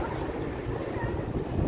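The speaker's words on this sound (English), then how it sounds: "it's windy." Wind gusts along Broadway at East 21st Street in Manhattan in the evening, making a close, rough rumble of buffeting against the microphone under a faint city hum.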